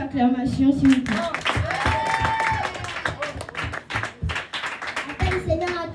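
A church congregation claps to welcome a child who is about to recite a Bible verse, with rhythmic, fairly close hand claps at a steady beat, plus sung or spoken voices and a sustained tone underneath.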